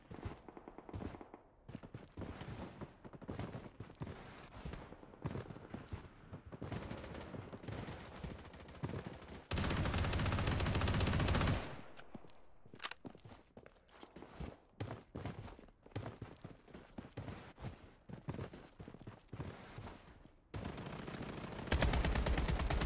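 AK-47 rifle fire in the video game Bloodstrike, with rapid automatic bursts and single cracks in an irregular sequence and one long sustained stretch of continuous firing, loud and close with no talking.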